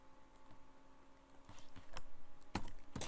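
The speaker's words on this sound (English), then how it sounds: "what you type in is you click enter and type in cache dot name" Fingers type on a computer keyboard in an irregular string of soft, close key clicks that grow busier toward the end, with a few sharper keystrokes at the finish and no talking.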